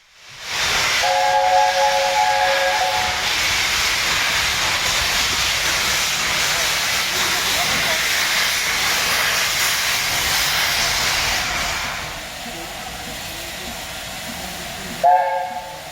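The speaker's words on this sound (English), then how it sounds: "the driver leaves the drain cocks open until the cylinders have had a chance to get properly warm" Steam locomotive on a heritage railway at Bury starting off with its cylinder drain cocks open, a loud roaring hiss of escaping steam that holds for about eleven seconds before easing, with brief whistle-like tones at start and end.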